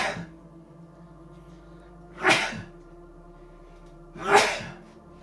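Two sharp sneezes, a couple of seconds apart, each a sudden loud burst over a low steady hum.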